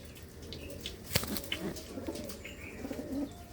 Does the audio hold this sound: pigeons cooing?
yes